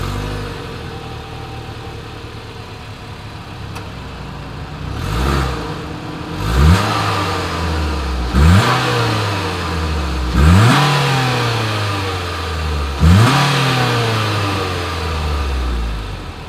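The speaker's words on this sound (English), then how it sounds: "Here is that exhaust clip." A 2020 Mitsubishi Outlander Sport idles at its exhaust, then gets five distinct revs spaced a couple of seconds apart, each rising sharply and falling back to a steady low idle, heard close with no talking.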